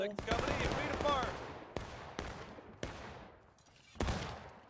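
Musket volley fire from a second company at a Gettysburg reenactment, a ragged burst of shots followed by several sharp single reports spaced about a second apart, each with a long outdoor decay, while voices talk underneath.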